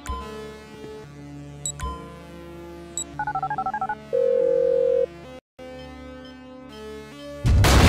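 A phone is dialed in GTA 5, with a rapid run of short electronic beeps, tones and a dial-tone-like hum, then a loud burst at the end, no talk.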